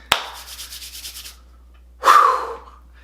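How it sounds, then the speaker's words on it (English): Hands rubbed briskly together close by, a soft dry swishing with a rhythmic pulse for about a second, then a pause and a second louder, breathier rub that fades out. "you can see me rubbing my hands like Birdman"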